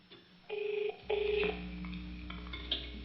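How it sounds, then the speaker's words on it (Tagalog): A cellphone rings with electronic tones, in short repeated bursts followed by a sustained tonal stretch, fairly close and without voices. "Agring ti cellphone na."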